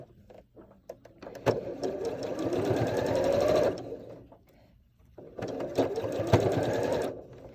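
A sewing machine stitching quilt blocks runs in two steady, close whirring bursts of a few seconds each, separated by a short pause with light handling clicks.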